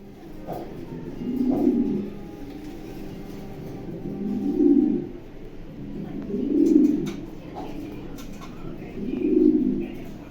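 Racing pigeons coo in four soft, low, throaty bursts spaced a few seconds apart, close by, with faint background noise between them.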